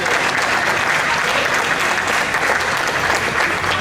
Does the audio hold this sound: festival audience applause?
yes